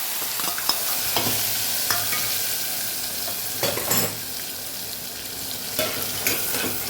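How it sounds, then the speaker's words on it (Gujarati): Chutney sizzles in hot oil with mustard seeds, cumin and asafoetida for a Kathiyawadi moong curry. A spoon scrapes and stirs in irregular strokes over the continuous frying hiss, and no one speaks. "આપણે ચટણી કાલવેલી આપણે ઉમેરીને સાતળી લેવાની છે"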